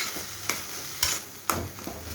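Cauliflower florets are stirred in a frying pan over a low, steady sizzle, with three sharp scraping clicks of the spatula about half a second apart, followed by softer strokes, and no voices.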